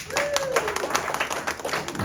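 Audience applause at a comedy show in London, Ontario, a dense patter of clapping filling the room, loud and steady for a couple of seconds, with a faint voice or whistle briefly over it.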